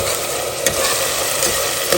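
Onions frying in a mix of ghee and oil, stirred steadily, give a continuous close hiss and crackle with a few brief scraping accents from the spoon against the pan.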